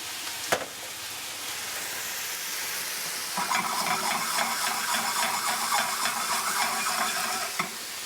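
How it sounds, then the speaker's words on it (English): Steady sizzling and hissing from a hot pan as mushrooms steam in a little added water, with a sharp clink early on, the bubbling steam growing denser partway through, close and continuous. "we're going to add just a little bit of water. Just steam them up."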